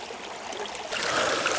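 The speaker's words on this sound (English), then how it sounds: "So that water is just flying through there, maybe a little too fast." Fast-moving creek water rushes steadily at a gold-prospecting spot where a sluice box is set up, a broad continuous wash that grows louder and fuller partway through, with no talking.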